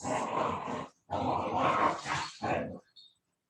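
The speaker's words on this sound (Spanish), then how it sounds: "mis perros" Dogs barking nearby in a home, several sustained loud bursts of barking and growling in close succession, with a short gap between them.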